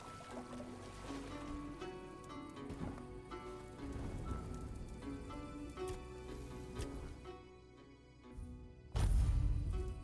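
A waterfall in the video game Tainted Grail: Fall of Avalon pours as a steady, dense rush of water, layered with in-game music tones and ending in a louder surge near the end, with no talking.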